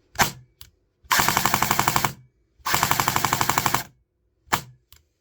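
A Cyma / JG airsoft AK rifle shooting close and loud: two rapid full-auto bursts of roughly a second each, their individual shots distinctly ticking, framed by a few single mechanical clicks and snaps.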